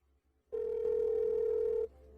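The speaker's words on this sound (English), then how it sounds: "Why isn't Sharon answering the phone" A telephone call ringing out unanswered: a single steady electronic tone lasting over a second, clear and close against a quiet background, with no speech.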